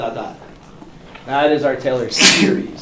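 A sharp sneeze bursts out near the end during a calculus lecture, loud and close, right after the lecturer finishes speaking.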